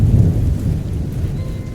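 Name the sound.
heavy rain with thunder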